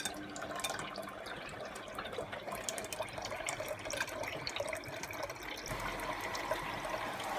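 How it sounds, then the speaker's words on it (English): A Bosch washing machine showing a one-minute error takes on water: a steady, fairly faint rushing and trickling fill that runs continuously, alone without talk. "Now it started taking on more water there"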